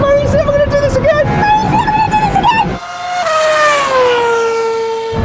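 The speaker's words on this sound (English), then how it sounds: "I can hear the Formula One car." A high-revving Formula One race car engine whines loudly, its pitch climbing and then sliding down as it sweeps past during a drag race, with crowd noise underneath.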